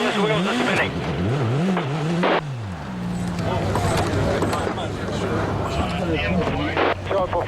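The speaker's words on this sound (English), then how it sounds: "It's completely on its bottom, and all the wheels are spinning." A rally car lies upside down during the Safari Rally with all its wheels spinning, its engine wavering up and down and then settling into a steady drone, while voices talk over it.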